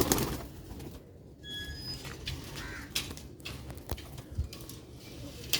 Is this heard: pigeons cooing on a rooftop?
yes